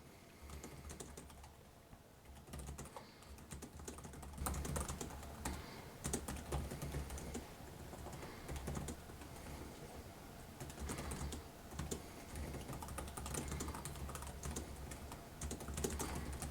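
Steady, rapid typing on a Lenovo ThinkBook 16+ (2024) laptop keyboard, close up, with crisp overlapping keystrokes continuing throughout without pauses.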